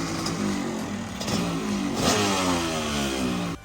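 A Honda CR250 two-stroke engine on a dirt go-kart runs close by, revving up and down with a raspy, buzzing snarl throughout.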